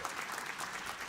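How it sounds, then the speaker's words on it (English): An audience applauds a scholarship recipient at the 2023 Juno nominee announcement, a brief burst of steady, dense clapping at a moderate level. "Let's give him a round of applause."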